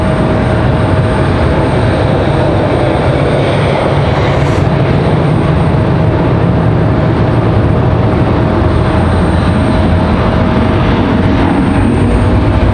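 An Airbus A220 jet airliner departs Raleigh-Durham International Airport with a loud, steady roar of engines that fills the whole stretch without letup.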